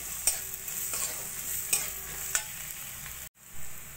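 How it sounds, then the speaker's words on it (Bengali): Salt, turmeric, cumin powder, chili powder and a pinch of garam masala frying in a pan for potato chop filling, with a soft steady sizzle and several sharp stirring scrapes, close by, stopping abruptly near the end. "এবার দিয়ে দেবো আমি পরিমাণ মতো নুন, হলুদ, জিরের গুঁড়ো, লঙ্কার গুঁড়ো, সামান্য গরম মশলার গুঁড়ো, সব কিছু দিয়ে একটু ভাজা ভাজা করে নেব"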